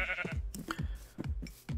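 Sheep on a video game farm bleat in quick succession, several short, close, repeated bleats with a steady rhythm and no speech over them.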